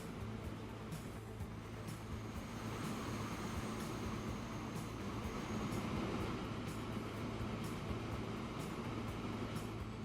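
A train in the city-building game Transport Fever 2 on the Crater Bay map rumbles steadily with faint rhythmic clickety-clack of wheels, a low, continuous rolling drone with no talking.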